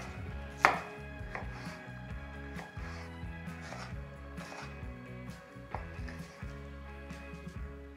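Rapid knife chopping of vegetables and pork fat on a cutting board, dense rhythmic thuds throughout, with one sharper knock early on; no talking.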